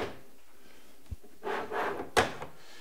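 A wooden drawer on Rockler CenterLine slides is pushed in and out, giving a soft sliding rumble followed by a sharp closing knock, with a small tap just before.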